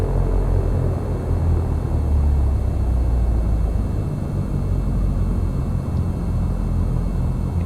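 An airplane taxiing after landing in the X-Plane 11 flight simulator, a loud steady engine rumble and broadband roar holding constant throughout, close and alone with no talk.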